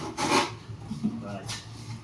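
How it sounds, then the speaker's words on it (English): Wood is sanded by hand for a heater box in a garage build in north Wales: two close rasping strokes about a second apart, with softer rubbing between them. "I'm sanding this"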